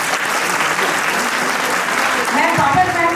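Loud, dense applause from an audience at a play school's annual day program, continuous clapping throughout with a few voices calling out near the end.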